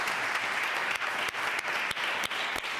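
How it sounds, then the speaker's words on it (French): Warm applause from members of the French National Assembly honouring a 12-year-old boy named Théo, a sustained even roar of many clapping hands with a few sharper individual claps standing out, moderately loud and without speech. "je vous demande, chers collègues, de l'applaudir chaleureusement pour nous aussi lui dire merci"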